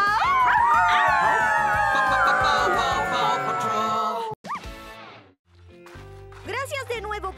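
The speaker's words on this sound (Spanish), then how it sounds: "si hay algún problema, solo aúllen por ayuda" A cartoon dog from PAW Patrol lets out a long, loud, wavering howl for help, with voiced animated-character speech and exclamations after it.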